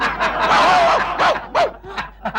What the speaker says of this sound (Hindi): ये तो कुत्ते की आवाज ही है